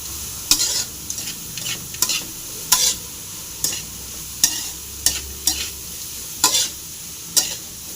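Sliced carrots stir-fried in a pan for a Tamil carrot poriyal, a steady sizzle broken by about a dozen sharp scrapes and clacks of the spatula against the pan, close and fairly loud, with no talking.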